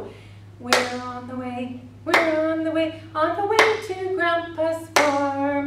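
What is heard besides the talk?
hands clapping along to a children's song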